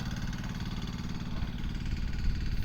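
A John Deere 990 tractor engine runs in low gear at partial throttle while cutting furrows in a corn test field. A steady, close diesel chug with low rhythmic pulsing continues without pause, and no voices are heard.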